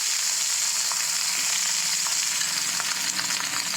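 Taro pieces frying in hot mustard oil with browned garlic, sour dried fruit and five-spice, a steady dense sizzle with faint crackles and occasional soft pops throughout, close and even, no voices.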